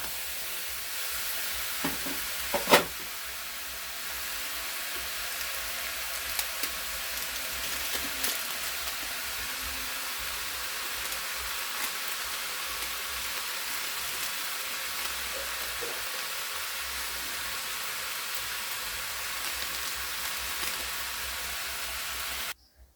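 Fried rice with egg and pepper sizzles in a pan, a soft, continuous hiss with an occasional clink or scrape near the start, close by and with no voices.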